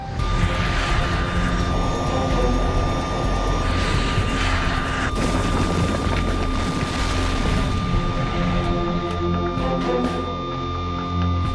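A Fokker 100 jet taking off from Congonhas airport: a loud, continuous roar of jet engines with shifting whine that swells and holds close, then eases slightly toward the end.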